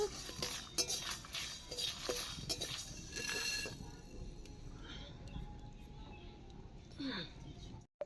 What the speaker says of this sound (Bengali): ধনেটা বেশ কিছুক্ষণ নেড়ে নেব।